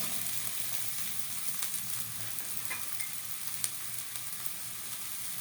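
Chopped potatoes sizzling as they hit lightly fried onions in a hot pan for a Bengali potato and flour dish, a steady close hiss of frying with light stirring scrapes, no voices.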